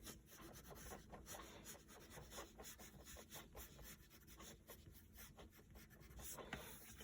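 A pencil sketches on paper while cat characters are drawn, giving a quiet, continuous scratchy rubbing with short strokes and soft rasps throughout, close and faint.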